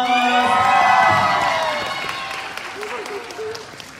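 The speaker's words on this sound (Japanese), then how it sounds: "皆さん拍手お願いします" Audience at a K-pop fan release event in a Tokyo hall applauds and cheers loudly, with a burst of shouting and whoops that fades into lighter clapping and crowd noise, while a voice speaks faintly underneath.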